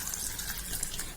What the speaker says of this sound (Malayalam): കുറച്ച് വെള്ളം, 1 കപ്പ് വെള്ളം ഒഴിച്ചിട്ട്